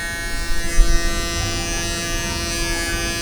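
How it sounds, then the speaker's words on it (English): Electric hair clipper or shaver buzzing steadily while trimming the sides of a customer's hair at a salon in Hong Kong, a close continuous hum with slight rises as it moves, no talking. "we are starting with shaving the sides"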